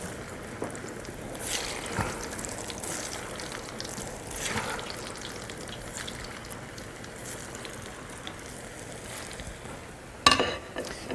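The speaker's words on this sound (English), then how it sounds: "let's fry our kofta balls. Place them in the ghee, like so" Kofta balls drop into hot ghee and fry with a faint, soft bubbling sizzle and occasional light splashes, close by and with no speech, ending in a brief louder clatter.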